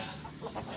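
Native and Rhode Island Red chickens clucking close by during feeding, a few short soft clucks over a low background hum, no talking.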